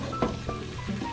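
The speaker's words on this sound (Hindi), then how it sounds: "देखिए यहाँ पे 2 से 3 मिनट तक मैंने आलू को अच्छी तरह से भून लिया" Potatoes frying in a pan for aloo chana, a soft, steady sizzle with a few faint stirring clinks, quiet and close.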